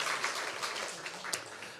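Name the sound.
congregation applause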